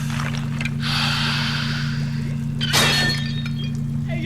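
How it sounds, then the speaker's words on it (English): A protective gem shatters in an Adventure Time cartoon scene, a sharp glassy burst and crackle over a steady low hum, followed by a second bright crash near the end, with no talk. "the protective gem shatters"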